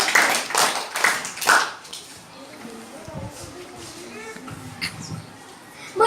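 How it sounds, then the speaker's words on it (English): Audience at a class debate gives a few sharp bursts of applause at first, then the room quiets to scattered faint sounds and background murmur. "A round of applause,"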